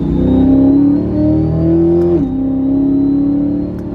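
A powerful ProCharged Corvette C8 engine hums loudly up close with a high supercharger whine, rising in pitch, dipping at a gear shift, then climbing again.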